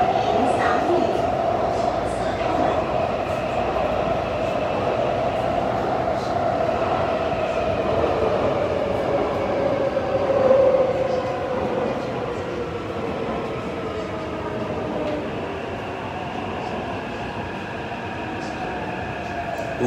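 A Taipei Metro train rumbles and hums steadily along the track, with a rising and falling motor whine and faint murmuring voices inside the carriage.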